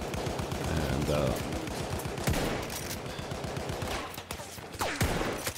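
Rapid bursts of gunfire ring out in the Battlefield 1 video game, with repeated sharp shots and a few louder cracks over several seconds while someone speaks briefly.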